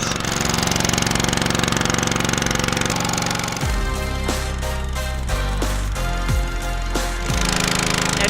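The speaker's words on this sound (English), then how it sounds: "Engine is a little loud," A boat engine on the River Kabul runs loudly and close, a steady rattling, knocking drone with shifting tones that continues without a break.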